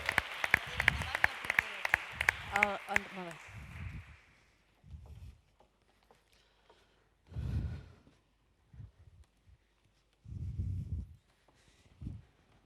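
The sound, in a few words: audience applause for speakers taking the stage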